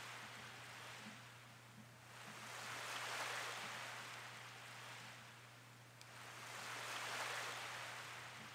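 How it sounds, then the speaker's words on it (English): Ocean waves sloshing on a shore in Harvest Moon: A Wonderful Life, a soft steady wash swelling and receding in slow surges under a low constant hum, with no voices. "Just listening to the ocean slosh."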